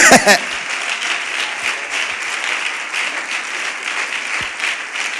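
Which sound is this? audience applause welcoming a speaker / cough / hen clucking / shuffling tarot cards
audience applause welcoming a speaker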